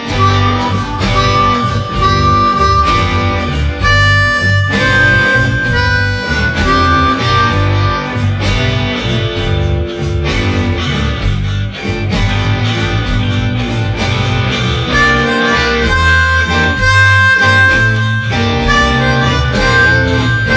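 A blues harmonica recording, slowed down with Audio Tweak software, plays continuously at full loudness. Sustained reedy harmonica notes sit over a dense backing band with steady low bass and drums, and there is no talking.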